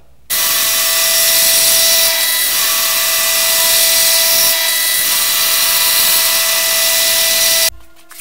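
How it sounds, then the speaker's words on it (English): A grinder works steadily along the bevel of a large handmade Bowie knife blade, a loud continuous abrasive whine with a steady tone that dips briefly twice as the blade is lifted, then stops abruptly near the end. "now I'm going to flip the knife around and grind the other bevel"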